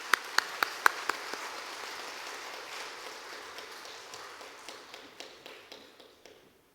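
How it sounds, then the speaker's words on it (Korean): A church congregation at a Sunday worship service gives a few sharp, sparse claps, then a faint, thinning patter of applause that fades away, quiet and distant. "한번 격려의 박수 해주시기 바랍니다"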